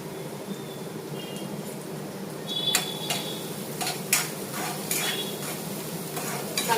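Sliced onions fry in oil for chicken curry, a soft steady sizzle broken by scattered metallic scrapes and taps of a spoon stirring in the pan, with no talking.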